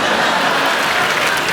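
Studio audience applause on a comedy show, a dense, loud and steady wash of clapping that runs the whole time without breaks.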